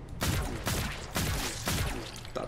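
Rapid bursts of gunfire in the zombie shooter game Zombotron, with several booming volleys a fraction of a second apart repeating steadily and heard alone at moderate loudness.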